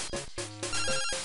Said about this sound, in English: Oh no, not another phone call.